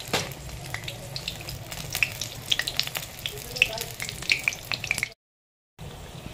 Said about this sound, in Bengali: হালকা আছে লাল লাল করে ভেজে নেব।